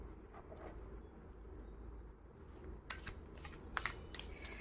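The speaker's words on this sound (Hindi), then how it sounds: "Allow me a little bit of time to shuffle your cards." Tarot cards are shuffled by hand in a quiet room, soft riffling and papery slaps gathering into sharper flicks toward the end, close and faint over low background hum.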